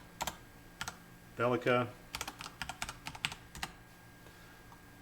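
Computer keyboard keys click in short bursts while a folder name is typed, with a brief spoken word between the first taps and the quick run of keystrokes that follows.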